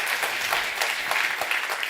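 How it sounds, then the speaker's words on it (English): Indoor conference audience at a food sovereignty event in Rotterdam breaks into dense, even clapping, close and steady without pause. "give a warm round of applause to the young talents"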